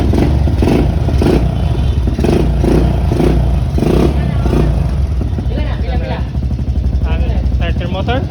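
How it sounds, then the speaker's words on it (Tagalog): A Suzuki Smash 115 motorcycle engine runs loudly and close, with a pulsing, chugging idle and light revs, while people talk over it and clattering sounds from a workshop come in toward the end. "umandar na yung ating Smash 115"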